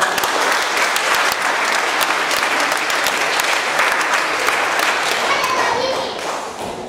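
A large audience at a folk dance event claps continuously and fairly loudly throughout, the applause tapering slightly at the end, with some voices mixed in.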